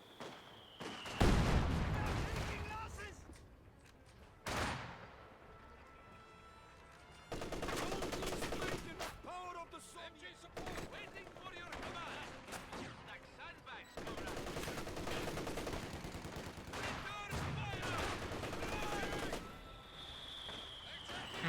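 A 120mm mortar and gunfire in the Company of Heroes strategy game, heard as sharp blasts and rattling machine-gun bursts that come in separate loud bursts across the span, with quieter gaps and a voice talking in between.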